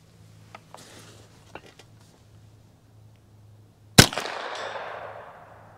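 .22lr rifle firing a single sharp, loud shot with a short ringing tail in an outdoor ammunition test, preceded by a few faint clicks and handling noises.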